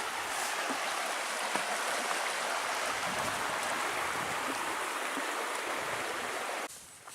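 Sawmill Creek on the Superior Hiking Trail rushing steadily nearby, a constant bright hiss of flowing water with no voices, dipping slightly at the very end.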